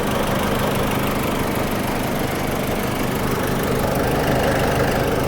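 Diesel engine running during a vehicle repair, a loud, steady, close mechanical rumble with constant vibration and no break in the sound.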